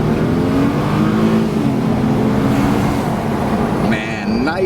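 A 2013 Mercedes-Benz E350 Sport Convertible (W212) with a non-turbo six-cylinder engine revs and pulls hard, its exhaust note rising and falling loudly and close up, with road noise throughout.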